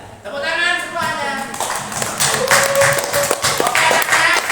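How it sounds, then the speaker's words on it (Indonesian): A class of schoolchildren claps together in a classroom, a loose burst of quick hand claps mixed with children's voices and chatter. "Tepuk tangan semuanya."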